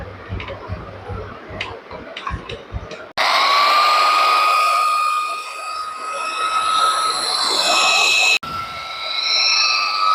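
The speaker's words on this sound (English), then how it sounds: "Now starting with polishing for final finish." A polishing machine runs loud and close for the final finish on a surface, switching on with a sudden high whine that holds steady and briefly cuts out before resuming, after a few light taps and clicks.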